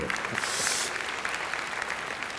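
Dense, continuous audience applause fills a live Kannada comedy show, steady and fairly loud from start to finish with no voices over it.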